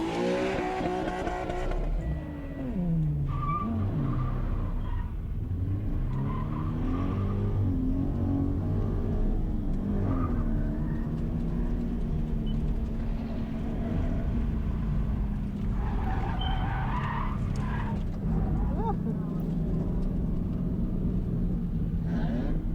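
A drift car at a drift event rumbles and revs up from low idle after restarting, its engine note rising and falling loudly and continuously as it pulls away and drives on.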